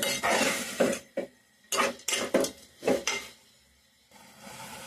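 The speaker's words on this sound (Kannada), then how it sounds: "ಇದನ್ನು ನೀಟಾಗಿ ಎಣ್ಣೆ ಬಿಡೋವರೆಗೂ ಫ್ರೈ ಮಾಡ್ಕೋಬೇಕು." A spice mixture with turmeric and salt being fried in a pan, heard as a series of loud, close metal scraping strokes of a spoon against the pan, separated by short pauses, over a faint sizzle.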